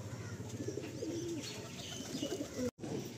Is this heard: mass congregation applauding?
no